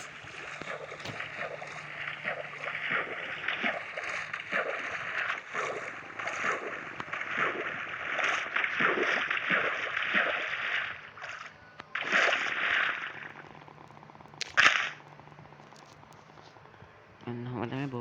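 A Minecraft boat moves across water with repeated soft paddling splashes in a loose rhythm, quiet and close, and a brief louder splash near the end.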